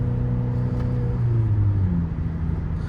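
A Mazda 3 engine runs smoothly while driving, a steady low hum with gear-like tonal shifts over continuous road noise, close and even throughout with no talking.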